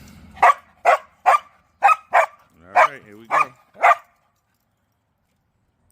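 Dog barking in a backyard garden, a run of about eight sharp, loud barks at steady pace, with someone speaking briefly at the start.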